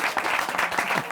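Studio audience on a talk show applauding to welcome a guest gynecologist, a dense, steady wash of clapping lasting about a second without a break.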